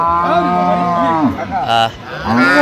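An improved-breed dairy cow at Ambari haat cattle market in Dinajpur, Bangladesh moos up close and loud, giving a long drawn-out low followed by a second rising call. A brief clatter sounds between the two calls.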